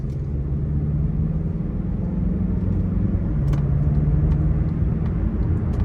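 A 2023 Mazda CX-30 AWD Premium Plus in sport mode gives a steady, loud low engine rumble and road drone from inside the cabin, holding an even drone with a faint rising tone partway through.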